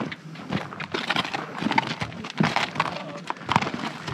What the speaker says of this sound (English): take a 45-minute horseback ride around the ranch